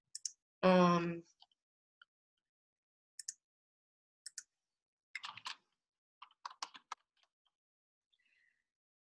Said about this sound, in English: Let me type it for you here.